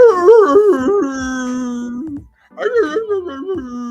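A human voice imitates a dog left in a backyard howling and whimpering: two long, wavering, mournful howls separated by a brief pause, loud and close.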